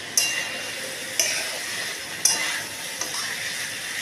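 Mixed vegetables for shukto sizzling in oil in a wok, a steady frying hiss broken by three or four sharp metallic clinks of a spatula stirring against the pan.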